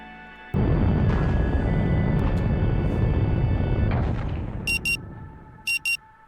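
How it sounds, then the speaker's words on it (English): A time-loop alarm in the video game Rue Valley sounds as two short, bright electronic buzzes near the end, following a loud, rumbling low wash that fades out. "The next sound of the alarm nudges you back to the present."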